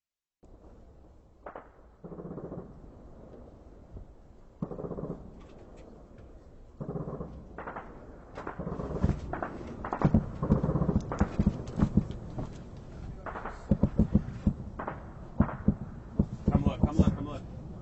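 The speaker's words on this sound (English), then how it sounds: "Not one, but several bursts of gunfire." Several sharp cracking bursts, like distant gunfire, pop repeatedly in irregular clusters over a background of low rumble and voices talking.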